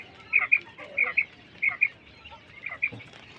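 European white giant coturnix quails call nearby in short, shrill chirps, often paired, repeating several times over a faint background.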